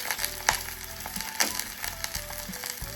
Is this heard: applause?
no